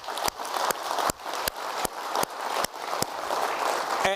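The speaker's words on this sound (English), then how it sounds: "they deserve a round of applause" Audience applause fills a conference hall at the Fortune Global Forum in Guangzhou, China, as a dense, even wash of clapping that holds steady throughout and is punctuated by regular sharp clicks.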